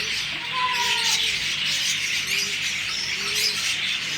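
Cockatiels and parrots chirp and squawk in short, scattered calls over a bright hiss of background chatter.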